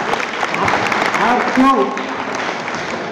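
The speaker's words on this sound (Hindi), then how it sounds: "इसलिए सबको अपने आप के लिए तालियां बजाओ।" A crowd at a Raj Beldar community gathering in Pathri claps steadily for a few seconds, while a loud voice speaks over the applause.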